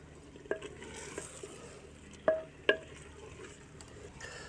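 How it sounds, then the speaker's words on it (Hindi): A spoon scrapes and clinks against a pot as potato and radish curry is stirred, with a few sharp metallic knocks over a soft background sizzle. "अभी हम इसको अच्छे से मिक्स करेंगे।"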